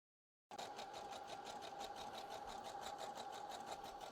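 A sewing machine stitching swimsuit fabric in a zigzag pattern starts abruptly after a brief silence, then runs as a fast, steady mechanical whir with a rapid rhythmic clatter, close and continuous.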